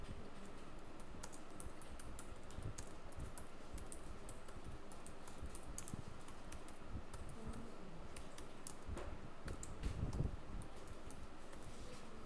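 Typing on a computer keyboard to enter a subtitle, heard as a steady run of soft, quick key clicks over a faint background hiss, with no voices.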